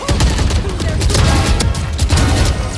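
Rapid gunfire in the Valorant shooter game, a loud, dense burst of repeated shots and impacts continuing throughout the short stretch.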